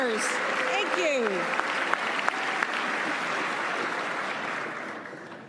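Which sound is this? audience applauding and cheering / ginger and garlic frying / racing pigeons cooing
audience applauding and cheering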